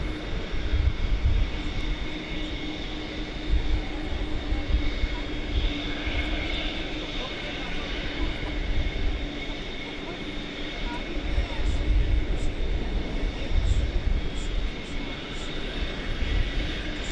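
A Boeing 727 on the runway at Dallas/Fort Worth airport gives off a continuous broadband engine roar with a steady whine on top, moderately distant and even in level throughout.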